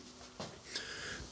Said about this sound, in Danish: min vejrtrækning, den bliver sådan her.